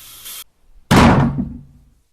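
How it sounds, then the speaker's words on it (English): A door blown shut by a tremendous gust of wind lands with one loud, heavy slam right after a brief burst of noise and a short silence, its boom decaying over about a second. "A tremendous gust of wind blew the door shut with window-rattling force."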